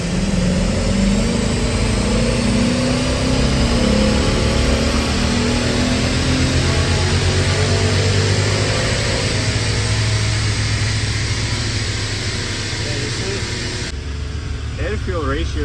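A Genesis 5.0 V8 runs on a dyno, holding a loud, sustained drone with rising and falling pitch for most of the run before easing off near the end.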